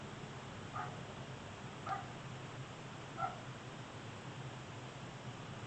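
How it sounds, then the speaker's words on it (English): Three faint, widely spaced barks from a dog outside, heard far off against a quiet, steady room hum. "If you guys hear my dog barking, she's outside right now."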